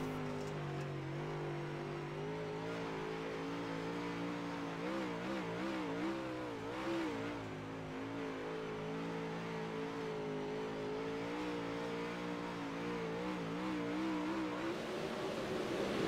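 UMP modified race cars roar around the oval at Charlotte as the green flag returns, engines revving and droning loudly and continuously with shifting pitch for the whole stretch.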